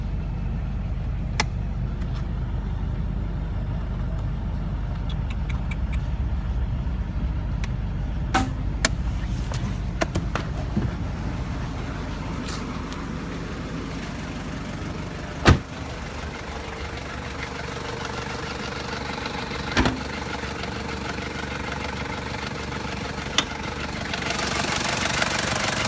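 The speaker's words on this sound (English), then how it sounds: "Let's check out the engine." A 1997 Toyota Land Cruiser Prado turbo-diesel 4WD idles steadily with its hood open, a low continuous diesel rumble with occasional clicks and taps, heard alone and close.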